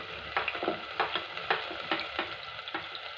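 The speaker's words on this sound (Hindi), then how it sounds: "गाइस अब हम डालेंगे प्याज" Onion frying for makhni dal, a soft continuous sizzle broken by regular stirring scrapes about every half second, fairly quiet and close.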